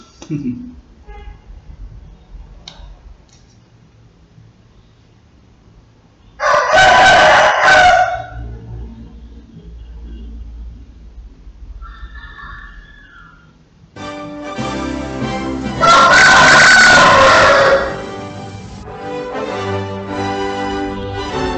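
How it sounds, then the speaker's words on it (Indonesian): A rooster crows twice outdoors, two loud drawn-out calls separated by several seconds, with someone speaking quietly in between and faint background noise. "seperti ayam yang berkokok di tempat saya ini"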